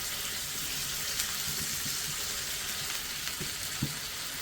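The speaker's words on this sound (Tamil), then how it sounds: "நல்லெண்ணெய் சேர்த்து வதக்கலாம்." Veldt grape with garlic and ginger sautés in sesame oil over a low simmer, giving a soft, steady sizzle with occasional faint stirring clinks, fairly quiet and without voices.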